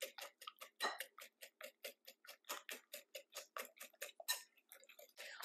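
Whisk beating white and brown sugar, eggs and oil in a bowl: a fast, even run of close, crisp ticking strokes against the bowl, about four per second, with no talk.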